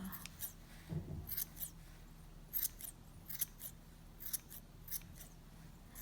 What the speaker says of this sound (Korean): 그리고 이거 하실 때는 가위가 좀 잘 드는 걸로 하셔야 돼요.